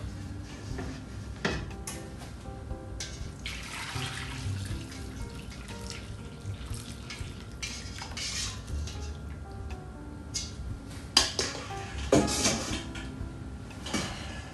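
Braised meat broth is poured through a strainer, a continuous liquid splash and trickle with occasional clinks and knocks of kitchenware, close by.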